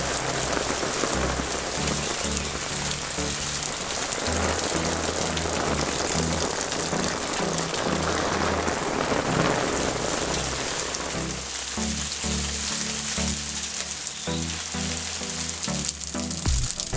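Steady rain pours down, a dense continuous patter of drops hitting a surface, loud and close throughout with no voices.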